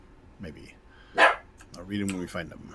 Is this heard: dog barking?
yes